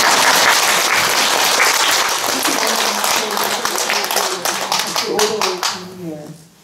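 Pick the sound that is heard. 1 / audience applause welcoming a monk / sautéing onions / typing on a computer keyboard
audience applause welcoming a monk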